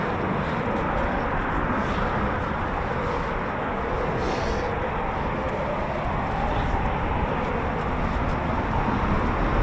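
Deep, broad roar of a departing Eurofighter Typhoon FGR4 jet, a loud steady rumble filling the whole span without letting up.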